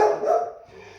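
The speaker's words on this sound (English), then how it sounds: "you can fast forward through the loud dog barking" A dog barks loudly indoors, a short burst with a sharp onset that trails off, heard alone without talk.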